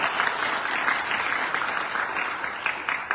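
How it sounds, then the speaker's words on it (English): Sustained audience applause for a singer at a bhajan gathering in a Durga temple, a dense steady wash of many hands clapping throughout, moderately loud and unbroken. "give her a lovely round of applause"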